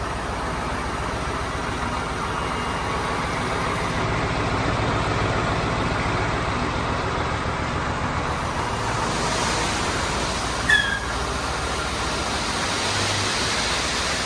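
A homemade dump-body lift on a truck, built around a KamAZ hydraulic cylinder, raises the bed outdoors. A steady engine and pump drone runs throughout, with a single faint clank near the end.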